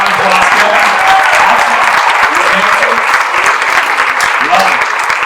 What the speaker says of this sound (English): let's give him a round of applause, Kevin.